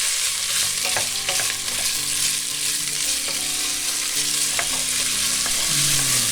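Potatoes and vegetables for a vegetable soup sizzle in a large non-stick pot, a loud steady frying hiss with occasional spoon scrapes and knocks, no voices.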